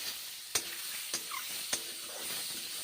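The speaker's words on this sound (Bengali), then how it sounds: "এখন আমি মাশরুমগুলো ভেজে নিচ্ছি।" Mushrooms frying in mustard oil give a steady soft sizzle, broken by three sharp clicks of a spoon or spatula against the pan, with no voices.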